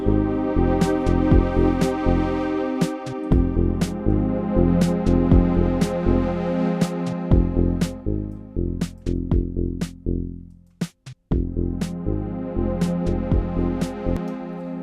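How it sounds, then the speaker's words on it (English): Sustained synthesized string chords from a Teenage Engineering OP-XY, eight bars, with sharp rhythmic stabs on top, loud and continuous, briefly dropping out near the end before resuming. "It's like an 8 bar of strings is what I just did there"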